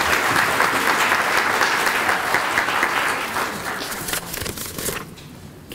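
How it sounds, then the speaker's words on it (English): An audience applauds elementary school students at Parkland Elementary with loud, sustained clapping that fades toward the end. "Can we get another round of applause for the wonderful students at Parkland Elementary?"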